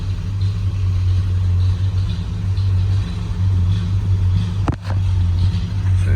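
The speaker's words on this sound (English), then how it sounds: "the blower motor works" The blower motor of a 1958 Studebaker Silver Hawk runs with a steady low hum and whoosh, continuous and close throughout, broken only by a brief click near the end.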